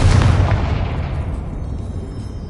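Confringo explosive spell detonating in the Hogwarts Legacy video game during an assault on a goblin mine: one loud, close booming blast that rolls off into a fading rumble.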